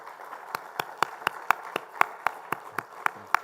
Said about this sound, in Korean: 우리 한번 격려의 박수 한 번 더 할까요?